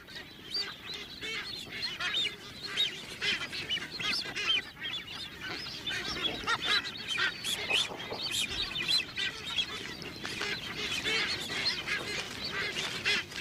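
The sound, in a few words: seabird colony, frigate birds and white boobies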